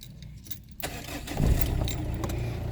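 A car engine being restarted while a DC/DC battery charger is fitted: a quiet start with a faint jingle, then a cranking surge at about one and a half seconds settling into a steady, close idle.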